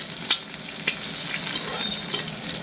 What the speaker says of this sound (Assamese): এতিয়া পিঁয়াজ জলকীয়া পাঁচফোৰণ এই ভাজা হৈ গ'ল